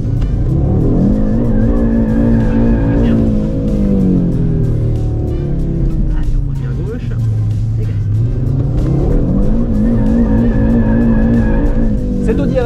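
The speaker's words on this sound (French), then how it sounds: "cette nouvelle Audi RS3 se dote d'un mode qui permet de le mettre en crabe" Audi RS3 2022 (8Y) Quattro drifting sideways in its drift mode, engine droning loudly with tires skidding and squealing throughout, with talking over it.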